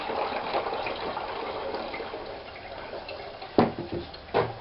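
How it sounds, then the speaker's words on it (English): Drinking water is poured into a container in a steady, moderately quiet stream, followed by a couple of sharp knocks near the end. "just getting some water"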